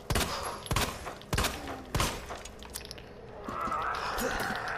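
Gunshots in Resident Evil 2, about four loud, close shots spaced roughly half a second apart, followed by a lower, muffled rumble as the shooting stops.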